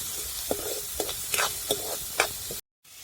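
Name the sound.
onion frying in oil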